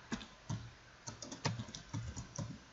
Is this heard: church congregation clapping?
no